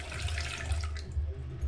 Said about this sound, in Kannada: ನೀರನ್ನು ಹಾಕೋಣ.